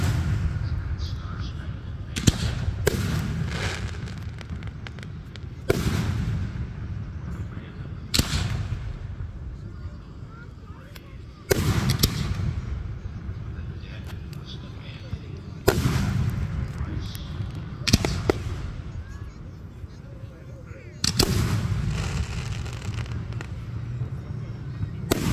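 Fourth of July fireworks burst outdoors in a series of loud booms, each followed by a crackling tail, spaced several seconds apart, with faint voices in the background.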